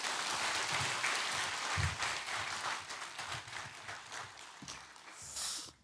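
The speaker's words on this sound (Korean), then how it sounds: "나오실 때 큰 박수로 맞아주시기 바랍니다" A church congregation claps steadily as a pastor is welcomed to the front during a Sunday service, a dense, fairly loud patter that thins slightly toward the end.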